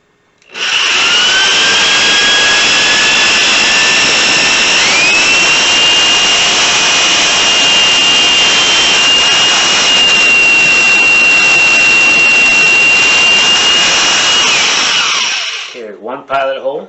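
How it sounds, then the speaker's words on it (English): A power drill bores pilot holes for screws during a booster build, running as a loud, steady, high whine that holds for about fifteen seconds, rises slightly in pitch early on, then spins down. "These are pilot holes for the screws. Just line my drill bit up"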